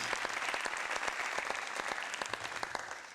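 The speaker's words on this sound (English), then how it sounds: "Oh yeah, the applause button." Canned applause triggered from a button during a live music stream: a crowd claps with dense, steady clapping that fades slightly near the end.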